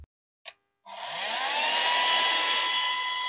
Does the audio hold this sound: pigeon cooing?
no